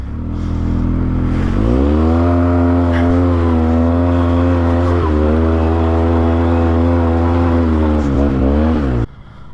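A 2022 Polaris Sportsman 570 ATV engine revs on a trail, a loud close drone climbing in pitch and holding steady, with small throttle dips before cutting off abruptly near the end.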